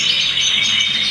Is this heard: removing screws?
no